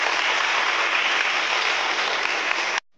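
Vigorous, dense audience applause at a farewell ceremony, a steady wash of clapping lasting just under three seconds before stopping abruptly.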